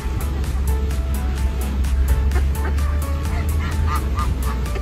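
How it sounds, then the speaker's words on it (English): Geese honk repeatedly in a noisy flock at feeding time on Waiheke Island, loud and close, over a steady low bus engine rumble. "Ducks and geese."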